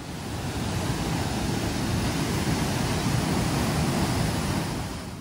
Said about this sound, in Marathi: नागा इकडचे एक आहे धबधबा.